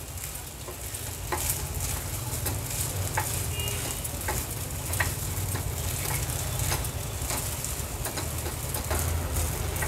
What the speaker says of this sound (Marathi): आता हे भिजवलेले साबुदाणे आहेत ना, अगदी 1 ते 2 मिनिटांसाठी तुपावर परतून घ्यायचे आहेत आपल्याला